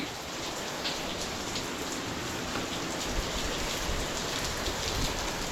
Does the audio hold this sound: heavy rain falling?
yes